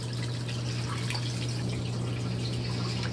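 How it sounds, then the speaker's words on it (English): A Giantex portable washing machine of 1.34 cubic feet rinsing and draining, giving a steady trickling, splashing flow of water over a constant low motor hum, close and unbroken. "Rinsing, getting all that water out."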